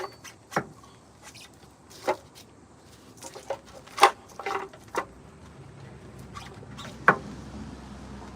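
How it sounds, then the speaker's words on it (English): Light rain beginning to fall outdoors: scattered drops land as sparse, irregular ticks and pats, a few sharper than others, over a faint, quiet background with no voices. "It's starting to rain a little bit."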